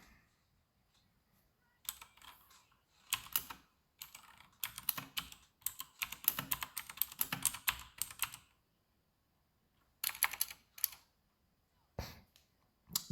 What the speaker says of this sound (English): It's a mechanical keyboard, therefore it sounds.